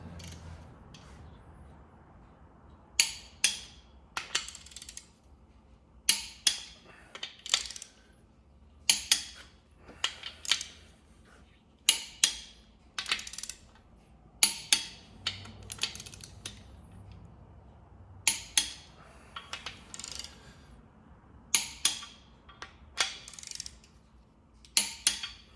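Clicker style torque wrench tightening engine bolts to 70 foot-pounds during short block assembly, a series of sharp ratcheting clicks in repeated bursts, close and distinct against a quiet background.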